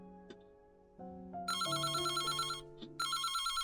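A phone rings in the video game Reverse: 1999, a bright electronic ringtone with layered tones that steps up in pitch and then repeats its chiming burst loudly and clearly, with no talking.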